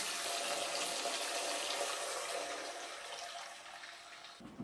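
Water pours steadily into a cooking pot in an ongoing rushing stream that fades slightly before stopping abruptly near the end, followed by a small knock.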